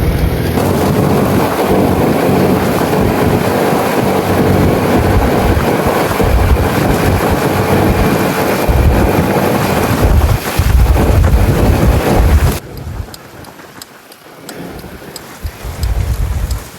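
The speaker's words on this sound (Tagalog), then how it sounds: "Medyo mahangin po kasi." Strong wind buffeting a fishing boat out at sea, a loud, continuous rushing roar with gusty low rumbles that drops away suddenly near the end and then returns.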